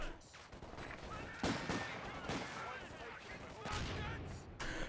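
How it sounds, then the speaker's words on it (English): Vickers and MG42 machine guns trade sustained fire in the Company of Heroes 2 strategy game, a dense continuous clatter of bursts with louder spikes near the start and end, mixed with other battle noise and faint voices. "Vickers and MG42 both in range of each other."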